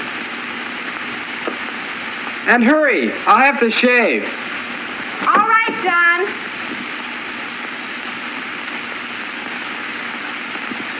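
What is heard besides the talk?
hot water running from a tap or shower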